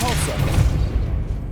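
A Depulso repelling spell blasts in Hogwarts Legacy, a dense, forceful whoosh and rumbling boom with crackling bursts, close and loud, fading toward the end, with a brief voice at the start.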